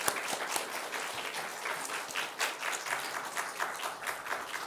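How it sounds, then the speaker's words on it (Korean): A church congregation at a Sunday service applauds to welcome a newly appointed choir conductor, producing steady, fairly soft crowd clapping that continues throughout. "우리 인사할 때 여러분 크게 박수로 환영해 주시기 바랍니다."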